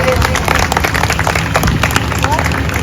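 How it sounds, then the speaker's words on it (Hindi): An audience at an Independence Day school event claps and applauds in a dense, continuous burst of close hand claps, with crowd murmur and speech blended in. "एक बार मेरा जोरदार ताली बजा दीजिए।"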